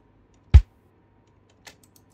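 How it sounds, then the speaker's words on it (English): A single deep, punchy kick drum hit played from a digital audio workstation for a neo soul backing track, alone and fairly loud, followed by a couple of faint mouse-like clicks. "So let's take a listen to the kick drum first."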